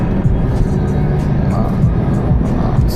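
A Toyota Corolla running on LPG accelerates to overtake, its engine making a steady loud drone with road noise that fills the cabin throughout.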